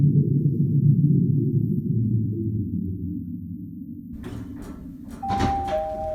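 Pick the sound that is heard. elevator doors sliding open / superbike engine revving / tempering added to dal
elevator doors sliding open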